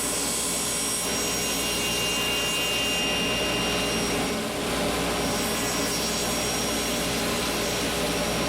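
A table saw runs steadily while squaring up a pen blank, giving a continuous whirring drone with a brief dip in the middle. The sound carries through the whole stretch, with no talking.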